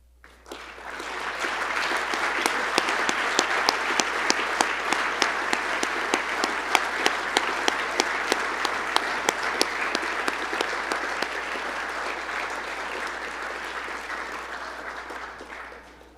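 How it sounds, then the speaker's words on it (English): Long round of applause from a banquet audience for the seniors at a college football banquet, a dense, even wash of many hands clapping in a large room, rising in quickly, holding steady, then fading out. "why don't we give them a round of applause to send them off"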